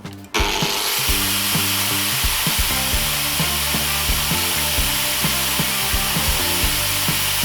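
A Bosch GWS 17-125 angle grinder runs continuously at speed during a balance test, a loud steady whine with faint periodic ticks, close by and alone.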